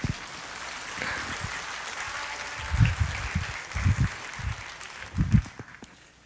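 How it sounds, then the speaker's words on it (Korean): A church congregation applauds at a Sunday worship service in a fairly faint, scattered way, with soft clapping that swells in a few bursts across the stretch and has no voices over it. "여러분 뜨거운 박수로 맞아주시기 바랍니다"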